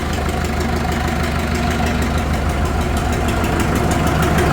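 A Farmall 650 tractor's diesel engine runs steadily close by, a loud, even rumbling idle with a faint knocking pulse throughout and no voices.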